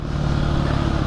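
A 2010 Husqvarna 510 SMR supermoto motorcycle rides through town, its single-cylinder engine giving a steady, close, throbbing drone with a slight clatter.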